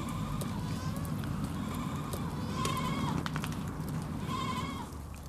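Goats grazing among argan trees in Morocco bleat in three clear, nearby cries spread across a steady, noisy outdoor background.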